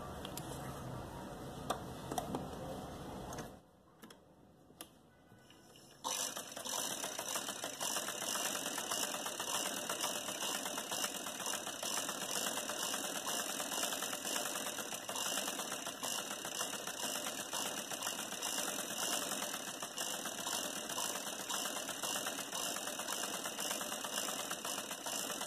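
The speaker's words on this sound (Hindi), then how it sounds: "अब ये जो दूसरी साइड है वहाँ पे हम बड़े नंबर की सिलाई कर लेंगे।" A sewing machine stitching an umbrella-style bell sleeve starts after a quiet pause and then runs continuously with an even, rapid mechanical whir and clatter up close.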